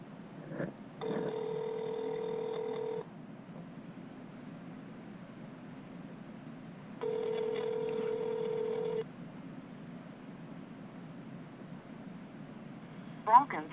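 A touch-tone phone dialing out on a Verizon Wireless line, two long steady dual-tone beeps a few seconds apart, clear and close over a faint hiss, with a brief click at the end.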